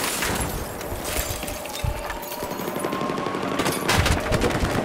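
Battlefield 4 gunfire crackles as dense, rapid automatic bursts and scattered shots mixed with noisy battle din, loud and continuous throughout.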